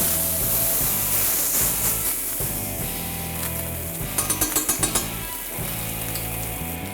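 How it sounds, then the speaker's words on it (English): A ribeye steak sizzles hard in a pan of beef tallow, a loud, steady frying hiss with crackling spatter that goes on throughout, and a short run of rhythmic taps near the end. "Here we go, steak in the pan."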